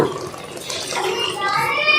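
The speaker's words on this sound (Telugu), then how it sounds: "వాటర్ పోసుకుంటున్నాం అండి" Water pours from a glass into a vessel, a short splashing gush that rises in pitch as it fills.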